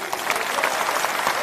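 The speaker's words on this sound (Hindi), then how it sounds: "एक जोरदार ताली" Applause from an audience at a Jan Suraaj state-level workshop in Patna's Bapu auditorium, a dense, steady patter of many hands throughout a short burst.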